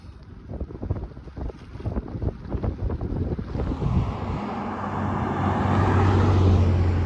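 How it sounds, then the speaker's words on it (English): Strong 25-mile-per-hour wind roars across the microphone during a Sea Otter Classic gran fondo bicycle ride, gusty and buffeting at first, then building into a loud, continuous rush. "Block this damn 25-mile-per-hour wind."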